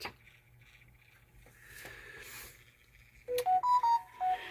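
A telephone rings in a series of short electronic beeping bursts near the end, loud and close, following a quiet stretch of room noise at a model-building workbench.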